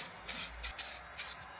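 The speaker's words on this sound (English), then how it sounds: "Can you spray paint your engine bay?" Short hissing bursts of an aerosol spray paint can coating an engine bay, four quick sprays with brief pauses between them, close and fairly quiet.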